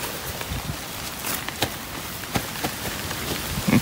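Steady rain patters across a surface, with scattered louder drops and splashes standing out from the continuous wash; no voices.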